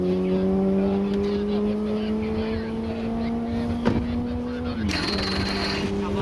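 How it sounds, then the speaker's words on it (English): The starter motor slips on Bonneville streamliner 2785, the Lamb liner, out on the salt flats. A loud, steady mechanical whine climbs slowly, then drops abruptly into a rougher burst of noise near the end. "The starter motor is slipping."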